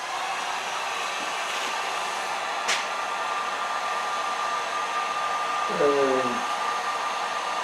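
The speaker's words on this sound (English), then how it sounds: "So how we'll do that is with a heat gun. And I'll put it on low." A heat gun set on low blows a steady, even whoosh while warming a plastic line on a 2000 Ford F250 Powerstroke. Close and continuous, with a single short click partway through and a brief spoken word near the end.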